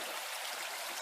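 Creek water flowing steadily in a hidden valley in Sheldon, Washington, a continuous broad rushing wash with no pauses, fairly close and even in level, no voices.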